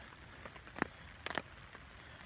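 Raindrops striking a hammock tarp during an overnight camp in wet weather, a soft continuous patter with a few sharper, closer hits and runoff drips, no one speaking.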